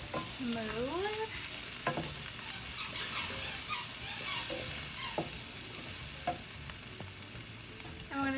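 A spoon stirs chicken pot pie filling with flour in a pan, soft scraping strokes over a steady low sizzle, close and fairly quiet, with a few brief squeaky tones and no speech.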